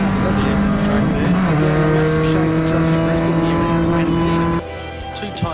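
Race car at the Winton circuit during a 944 series round, its engine holding a loud steady high drone that shifts pitch as it runs, then cutting off abruptly near the end, leaving quieter background noise.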